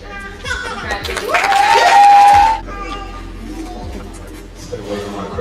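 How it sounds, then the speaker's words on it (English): An audience at an end-of-year education scholars celebration applauds and cheers for a graduating scholar, a loud swell of clapping and whoops that peaks for a couple of seconds and then fades back to murmuring. "clap it up for Hazel!"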